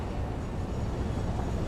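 A train moves along the track in the video game Satisfactory, heard as a steady, broad low rumble with no distinct clicks, moderately loud and constant.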